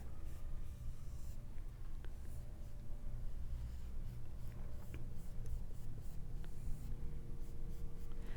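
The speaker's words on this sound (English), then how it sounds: "I'm using a brush that's the right size for my piece of paper." A paintbrush sized to the sheet strokes watercolor across paper, a faint, soft continuous scratching and rubbing close up, with steady low background hum underneath.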